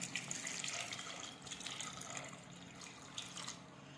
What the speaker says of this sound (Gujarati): હવે પાણી નાખીશું.